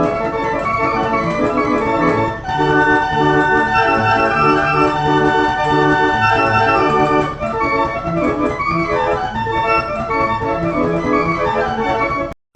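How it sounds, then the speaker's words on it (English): Short circus organ tune from the Five Nights at Freddy's video game, a steady, reedy carnival melody with dense harmonics playing continuously and fairly loud, ending abruptly, no voices. "there's a 1 in 30 chance that you will hear a short little circus organ tune play in the background"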